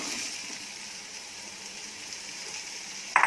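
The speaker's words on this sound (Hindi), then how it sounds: "अब इसमें हम ये कटे हुए आम डाल देंगे" Roasted spices sizzle and fry in a pan as chopped raw mango goes in for a sweet-sour mango relish with jaggery, a soft continuous hiss with a brief clatter at the end.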